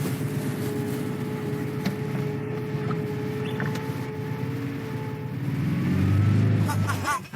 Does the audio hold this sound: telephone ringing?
no